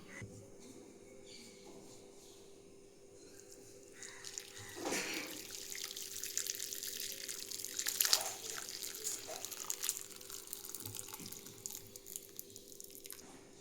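Curdled milk mixture strained through a cotton cloth for homemade paneer, with whey dripping and trickling in a quiet kitchen, a splashier pour midway, with no talking.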